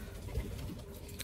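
A racing pigeon coos once in a loft, a short, soft, low throaty call set against quiet room noise.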